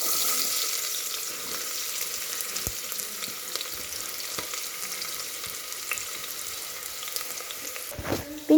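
Chopped onions sizzling in coconut oil inside a pressure cooker on the stove, a steady close frying hiss for several seconds with a clatter near the end.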